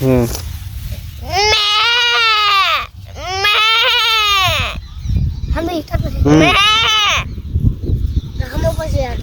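Someone imitates a goat's bleat with several loud, quavering calls, long wavering cries at first and then shorter ones, close to the listener, with a little voice noise between them.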